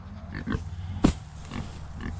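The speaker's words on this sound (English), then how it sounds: "Come on, pigs." Hungry pigs grunt and oink in short, low bursts nearby at feeding time, with one sharper squeal in the middle over a dull background.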